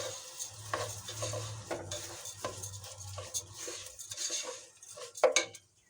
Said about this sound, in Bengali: এভাবে আমি মাংসটা চালটা কষাই আনব।